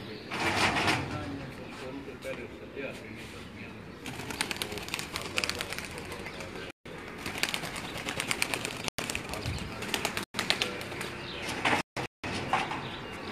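Racing pigeons are let go from a rooftop in Dinga, Gujrat district, Pakistan, during a 2018 cup race. Wing flapping and cooing mix with broad outdoor noise and several brief dropouts, while people talk nearby throughout.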